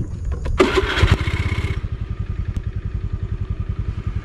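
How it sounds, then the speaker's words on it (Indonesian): Automatic scooter motorcycle engine starting with a clattery crank, then settling into a close, steady, rapidly pulsing idle. "Ini motor saya, motor Matic dengan segala fungsinya."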